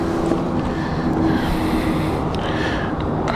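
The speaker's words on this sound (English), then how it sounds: "That is indeed actually a 777 that we can hear." A steady, broadband roar of a Boeing 777 airliner's jet engines passing overhead near London City Airport, constant and moderately loud with some wind-like rumble.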